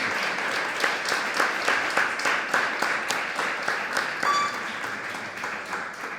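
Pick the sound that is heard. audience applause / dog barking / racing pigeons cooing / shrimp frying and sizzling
audience applause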